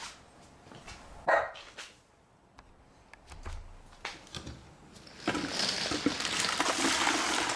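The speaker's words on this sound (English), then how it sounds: "my dog's barking" A few distant dog barks ring out sporadically over background clatter, followed by a rush of broadband noise like pouring or running water.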